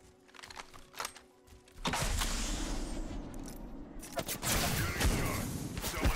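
Gunfire crackles in an Apex Legends match, starting as sparse shots over faint clicking, then breaking into dense, loud bursts of rapid fire mixed with impacts and a voice in the background.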